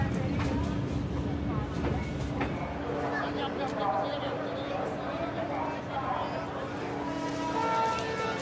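A train rumbles along the tracks with a steady low roar, rattling clatter and a faint whine, continuous and fairly close.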